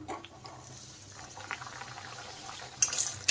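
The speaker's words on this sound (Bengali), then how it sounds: "এখানে দেখেন কড়াইতে আমি তেল চাপিয়ে দিয়েছি, আর তেল গরম হয়ে গেছে। এখন আমি দিয়ে দিলাম পরোটাটা।" A paratha fries in hot oil in a wok with a soft, steady bubbling sizzle at low level, then a few light utensil clinks near the end.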